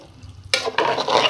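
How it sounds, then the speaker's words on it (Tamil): Water is poured into a hot pot of basmati rice with milk for a mushroom and peas pulao, setting off a sudden sizzling, splashing hiss that continues in short, close, loud bursts. "பால் ஆட் பண்ணிவிட்டு நம்ம ரைஸுக்கு தகுந்த மாதிரி தண்ணியும் இதில் சேர்த்துடலாம்"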